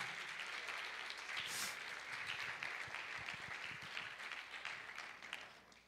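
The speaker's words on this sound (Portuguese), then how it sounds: "Você pode aplaudir o Senhor" A standing church congregation applauds with dense, sustained clapping that fills the room at moderate distance, fading slightly toward the end.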